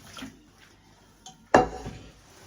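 A steel pot clanks sharply once against a hard surface, preceded by faint metallic clinks in a quiet home kitchen.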